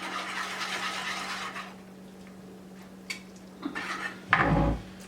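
A whisk stirs cornbread batter in a bowl for barbecue cornbread, first as a brisk, close scraping swish, then quieter, finishing with a few utensil clinks and a louder clatter against the bowl.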